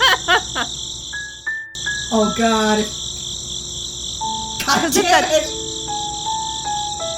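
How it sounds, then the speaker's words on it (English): Video game cricket chirps loop as a steady high-pitched trill behind a game scene, with loud spoken outbursts and tonal game sounds breaking over the continuous chirping. "I feel like the loop on these crickets restarts every time there's a new line."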